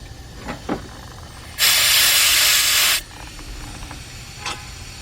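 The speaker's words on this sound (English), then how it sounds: "let me spray this and get some air in" A single loud burst of compressed air sprayed into a drilled thermostat bolt hole on a 2006 Jeep Grand Cherokee 3.7 hisses for about a second and a half, surrounded by quiet handling noises.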